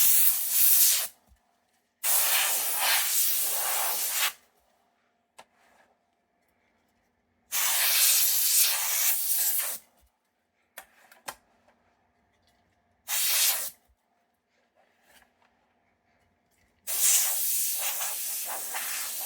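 Compressed air sprays into a PlayStation 2 console to clean it, five loud hissing bursts of one to two seconds each, separated by quiet gaps with a few small clicks.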